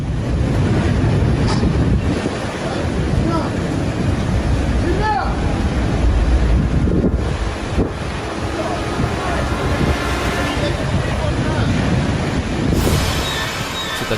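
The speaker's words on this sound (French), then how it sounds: "Le paquebot s'est retrouvé en pleine tempête." Heavy storm wind roars against the microphone on a passenger ship caught in a tempest, with giant waves surging and crashing in a loud, continuous wash.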